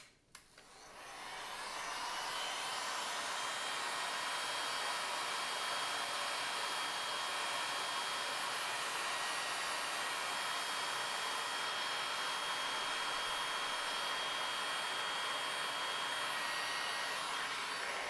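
A hot air tool blows continuously onto the edges of a Samsung Galaxy S3 with broken screen glass, a steady loud whooshing hiss that rises in the first couple of seconds and then holds unchanged.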